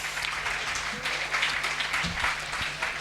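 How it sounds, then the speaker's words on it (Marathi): Congregation at a Marathi prayer gathering clapping along with a worship song, a steady wash of hand claps mixed with singing and a low hum, moderately loud and continuous. "सर्वांनी गाण्यामध्ये विश्वासाने जोराने टाळ्या वाजवून भाग घ्यायचा आहे"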